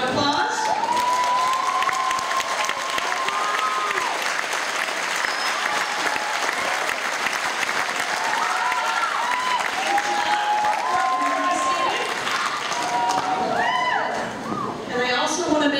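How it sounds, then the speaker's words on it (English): Sustained audience applause in a hall for a radiography graduating class of 2011, steady and full for about fifteen seconds, with scattered voices and cheers mixed in before it thins at the end. "Please stand for a round of applause."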